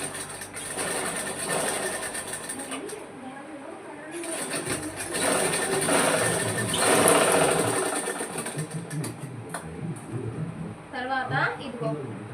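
A sewing machine stitches a blouse, running in a steady mechanical whir with brief pauses and restarts. The whir stays close and moderately loud, with someone talking over it.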